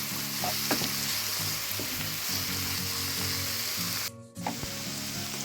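Constant sizzle of champignon mushrooms frying in a hot pan, close and loud, with a few light scrapes and a brief dip before the hiss resumes.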